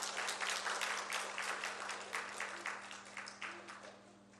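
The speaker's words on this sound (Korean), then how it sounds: "다시 한번 박수해 주십시다." A church congregation applauds during a Sunday service, a sustained burst of many hands clapping that gradually thins toward the end over a steady low hum.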